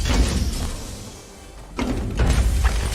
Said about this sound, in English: Always cover your tracks, close the doors.